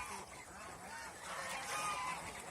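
Older domestic geese honk faintly in the distance, a few rough calls spread over a quiet, low-level background with no nearby talk.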